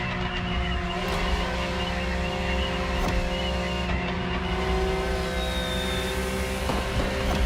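A race car in The Crew Motorfest roars under nitrous boost, its engine a loud, sustained, close drone with rising tonal whine and occasional sharp transients, no voices over it.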